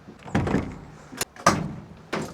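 The rear doors of a work van are shut, with several loud close-up thuds and slams in quick succession, some layered with metallic rattle.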